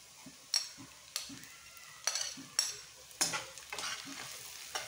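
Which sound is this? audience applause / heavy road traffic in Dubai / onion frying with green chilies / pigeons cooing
onion frying with green chilies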